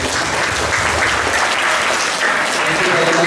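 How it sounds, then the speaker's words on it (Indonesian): Grade 7 and 8 students at an Islamic junior high school event in Jakarta applauding, dense continuous clapping from a crowd, loud and close throughout. "Boleh tepuk tangan buat teman-teman"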